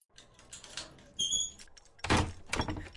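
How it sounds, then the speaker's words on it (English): A door clicking open in the video game CyberParanoia, a couple of soft, close clicks and knocks with a brief ringing tone between them in a quiet room. "You hear the click of a door opening"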